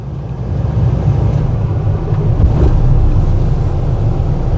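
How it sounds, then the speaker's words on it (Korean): A Hyundai excavator's diesel engine idles just after starting, a steady, loud low rumble with no speech. "아 현대 시동을 지금 걸었는데 이렇습니다"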